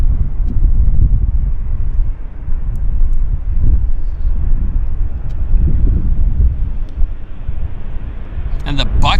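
An MD-80 or DC-9 style jet with bucket thrust reversers at Vancouver airport gives a continuous low rumble of engine noise, mixed with wind buffeting on the microphone.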